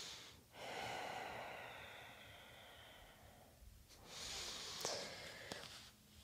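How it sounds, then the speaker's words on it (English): Slow, deep yoga breathing, with two long airy inhale-and-exhale cycles close to the microphone, quiet and unhurried with no talk. "Exhale. Deep breaths, lovely."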